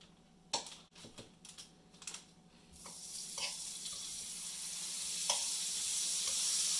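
French toast bread frying in a pan: a soft, steady sizzle that slowly grows louder and fuller, with a few light clicks and taps near the start.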